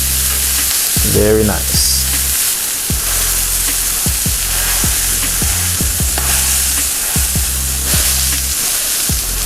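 Sausages fry on a hot griddle with a loud, constant sizzle, punctuated by regular scraping taps of a spatula; a voice speaks briefly early on.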